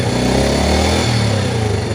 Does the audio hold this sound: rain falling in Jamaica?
no